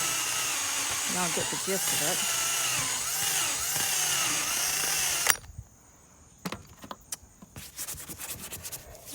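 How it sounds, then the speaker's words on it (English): A rubber eraser wheel on a power drill runs along the RV exterior to strip excess caulking, a steady loud whirring grind under talk for about five seconds, then cutting off to scattered clicks and taps. "get your rubber wheel and run it along the edge"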